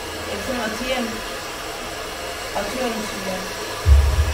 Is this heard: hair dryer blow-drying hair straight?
yes